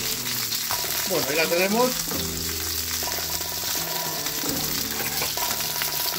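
Lamb sweetbreads sizzle and crackle steadily in hot oil with garlic and chili, a continuous close frying hiss with occasional stirring and a brief spoken remark.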